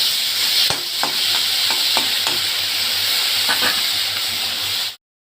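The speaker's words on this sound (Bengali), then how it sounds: "মাছগুলো তেলে ছেড়ে দিচ্ছি" Prawns sizzle in hot oil in a pan, a loud, continuous frying hiss with scattered stirring clicks and scrapes, cutting off abruptly at the end.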